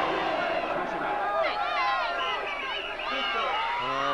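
A large street crowd at the 1987 FA Cup victory parade for Coventry City cheers, whoops and shouts continuously, a dense, bright roar of many voices with no single speaker standing out.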